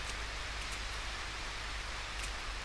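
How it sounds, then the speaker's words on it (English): A faint, steady hiss of rain falls throughout, even and unbroken, with no other sound standing out. "And it's raining again."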